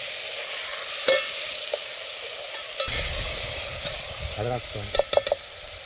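Tomatoes fry in a pan over an outdoor fire in the jungle, a steady sizzle broken by a few sharp scrapes and clatters of stirring, busier toward the end.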